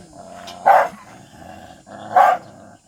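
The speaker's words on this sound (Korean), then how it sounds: "우리 까치리가 짖는 모습입니다" A Jindo dog barks twice, sharp and close, with a short pause between barks over quiet background hum.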